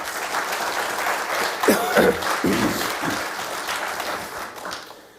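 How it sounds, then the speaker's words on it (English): Applause from an audience at a talk on learning an Indigenous language, a moderate round of clapping with a few louder voices partway through, then fading near the end. "Round of applause."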